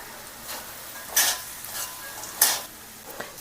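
Chicken, egg and rice are stir-fried together in a pan. A spatula scrapes and stirs in a couple of quick strokes over a soft, steady sizzle, with no speech.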